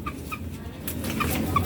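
A chicken clucks several times in short, close calls over a faint rustling background.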